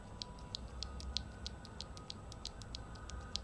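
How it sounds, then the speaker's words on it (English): A mechanical keyboard switch of the Halo type is pressed over and over in quick, even succession, giving a quiet, steady train of small, crisp clicks without any talking. "So this is a hello switch, and this is a hello browns. Hello switch, let's hear it."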